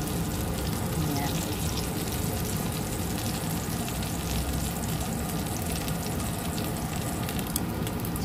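Eggplant frying in hot oil in a pan, a dense continuous sizzle and crackle, close and steady throughout.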